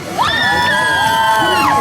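Outdoor street dance show crowd in Hongdae cheering and whooping loudly, a continuous wash of shouts and high voices with no single voice standing out.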